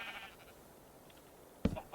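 A cow in a block-building video game gives one short, loud moo-like call near the end, after a faint tonal sound at the start, with quiet in between.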